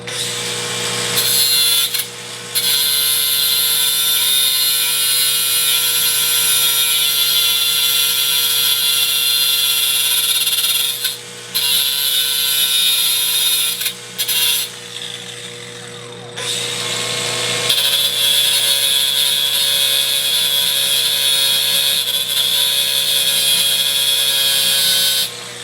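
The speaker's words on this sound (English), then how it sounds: "Now I'm going to bevel that." A power tool grinds steadily to bevel an edge, loud and close, running almost continuously with a few brief stops and restarts.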